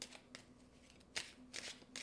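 An oracle card deck being shuffled and a card drawn, giving several quick, crisp riffling bursts close by and quiet, with no voice.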